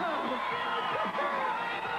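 Crowd cheering and whooping at a 1984 BMX show, a steady mass of excited voices, with a commentator talking over it.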